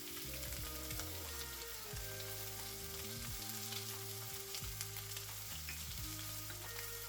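Shallots and ginger sauté in a pan with a quiet, continuous sizzle, punctuated by soft scraping and clinking as they are stirred; faint low hum underneath.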